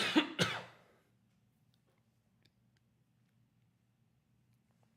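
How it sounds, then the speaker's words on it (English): A person gives two short, close throat-clearing coughs at the very start, followed by near silence with a faint low hum. "I've been coughing a lot"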